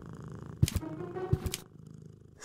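A cartoon cat dropped onto a typewriter in the point-and-click game Deponia gives two quick bursts of thumping clatter, each with a soft purring tone. Nobody is speaking.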